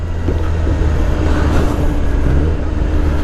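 A Kawasaki ZX10R motorcycle runs along a road, its engine droning steadily and loudly under heavy rumbling wind and road noise, with no pauses.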